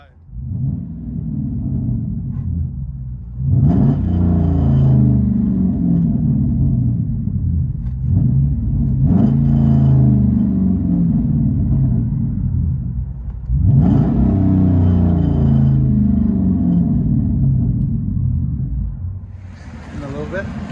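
Inside the cabin of a car with true dual exhaust, a low steady engine rumble broken by three distinct throttle blips that swell and fade, heard from the interior at close range.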